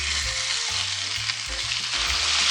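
Chicken pieces fry in a pan with ginger and garlic, giving a loud, steady sizzle that runs through the whole moment, with no voices over it.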